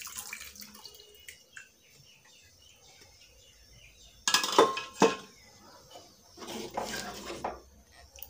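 Water poured into a cooking pot while making gargatta, a Maharashtrian dish, with pot and utensil clinks. Two short splashing bursts stand out against a quiet kitchen background.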